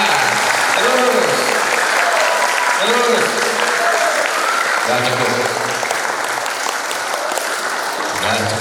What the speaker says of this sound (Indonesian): tepuk satu kali, tepuk dua kali, tepuk sebanyak-banyaknya. Makin keras, makin keras, terus.